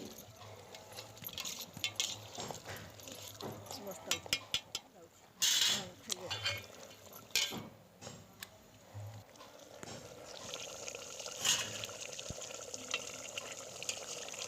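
Mutton curry bubbling and being stirred in a cooking pot, with soft wet bubbling and scraping, a few sharp clanks, and a voice talking over it.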